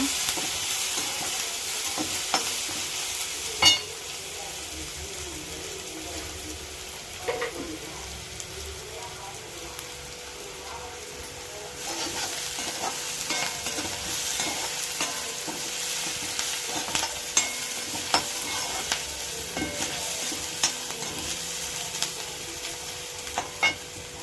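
Puttu mixture with dried red chillies sautéed in an iron kadai, a steady sizzle running throughout with frequent scraping and stirring knocks of a spatula against the metal, close and moderately loud, with no talk.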